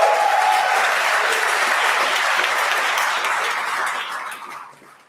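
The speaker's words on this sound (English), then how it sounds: "Please give Stephanie and her team a round of applause." An audience at a graduation celebration breaks into a dense, steady round of applause that holds for several seconds before tapering off at the end.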